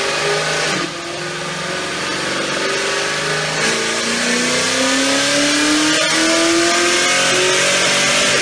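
A 2018 Hot Wheels edition Camaro with a Paxton/ProCharger supercharger running about 10 psi of boost on 93 octane fuel revs hard on a chassis dyno, its engine climbing loudly through the gears with rising whine and brief shifts.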